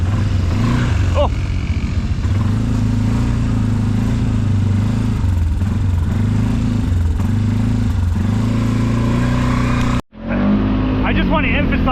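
The engine of a brand-new Polaris off-road vehicle drones loud and steady at high revs with a rough, throbbing tone, cutting off sharply near the end, while people talk over it.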